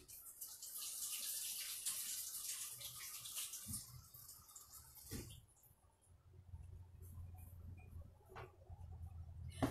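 Water running from a sink tap as a steady hiss for the first half, then cutting off, followed by quieter room noise and a few faint knocks, heard at a distance with no voices.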